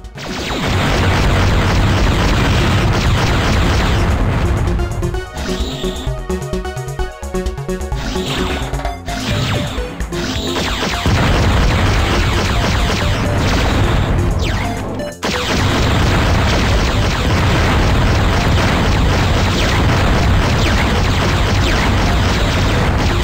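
A reactor exploding in Descent, the 1994 shooter on iOS, fills the clip with a loud, continuous rumbling roar of blasts. The roar dips briefly and then returns full and sustained.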